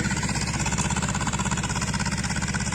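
A tractor engine running steadily in the field, a close, loud, even chug with a regular rhythmic pulse and no voices over it.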